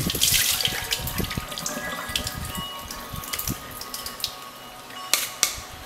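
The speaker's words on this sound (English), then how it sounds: "So the last rinse is with filtered water." Filtered water runs from a tap into a bowl of purple forbidden rice during a final rinse, a close, continuous splashing stream with a few sharp knocks and clinks near the end.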